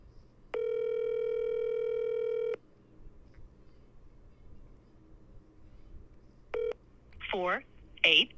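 Telephone keypad dialing a number for a call: one long steady dial tone is followed after a pause by a short keypad beep, with brief sliding vocal sounds near the end.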